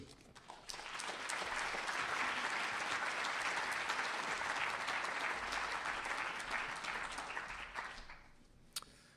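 An audience applauds to welcome lecturer Tim Wu at the Wesson Lecture in the Perry Conference Room, Encina Hall: steady, moderately loud clapping from a crowd that swells, holds for several seconds and tapers off.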